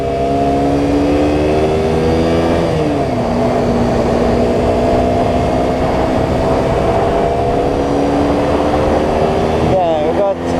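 A KTM RC125 motorcycle engine revs hard and high, its pitch holding, dropping at a gear change, then climbing again. The loud, continuous engine whine sounds close, as if recorded from the bike, and cuts out briefly near the end.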